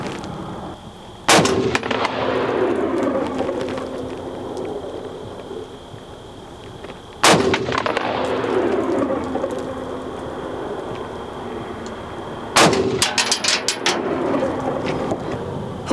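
Three sharp, loud gunshots from a Milspec M4 Block 1 rifle on an outdoor range at 10 yards, each crack spaced several seconds apart and trailing off into a long rumbling echo.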